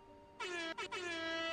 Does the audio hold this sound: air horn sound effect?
yes